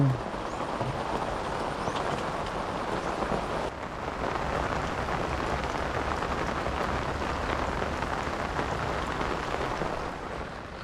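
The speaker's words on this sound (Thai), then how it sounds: "ฝนอย่างแรงเลยทีนี้" Heavy rain pours down at an outdoor fishing pond, a dense, steady hiss of drops drumming on surfaces that runs unbroken for about ten seconds, loud and close.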